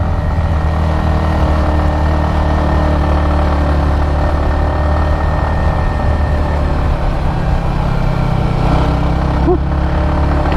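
A Yamaha XSR155 motorcycle engine drones steadily as it climbs a steep hill, a loud continuous mid-pitched hum with no clear gear changes, heard close from the rider's position.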